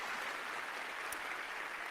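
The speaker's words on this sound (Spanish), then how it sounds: "démosle palmas fuertes a nuestro Señor" A church congregation claps together in a dense, even wash of applause that holds steady for about two seconds, sounding somewhat distant and muffled, with no voices on top.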